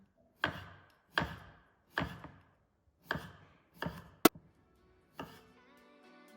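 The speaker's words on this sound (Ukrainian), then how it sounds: "Тоненько нарізаю картоплю" A knife thinly slices potato on a cutting board in several sharp, evenly spaced strokes, close and clear, with a light tap near the end.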